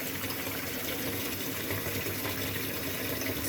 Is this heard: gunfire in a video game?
no